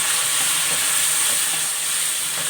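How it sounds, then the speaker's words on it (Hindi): Garlic ginger paste sizzling in a pan of golden-brown onions, a steady loud hiss holding constant without pauses. "अब मैं इसमें लहसुन अदरक का पेस्ट ऐड कर रही हूँ"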